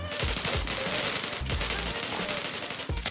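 Rapid automatic gunfire in the mobile shooter Zula Mobile, loud and nearly continuous, with sharp shot transients and a couple of brief pauses.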